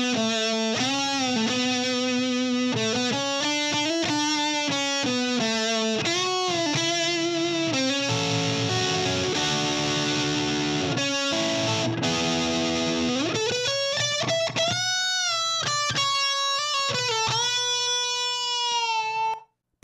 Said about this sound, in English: Let's take a listen to this guitar solo.